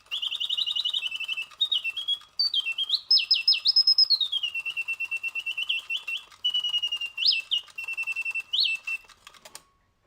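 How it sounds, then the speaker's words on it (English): A solid silver German singing bird tabatiere automaton trills and chirps, bright warbling phrases rising and falling in quick bursts with brief pauses, close and clear, fading out at the end. "there, the singing bird tabatiere. Now this is solid silver"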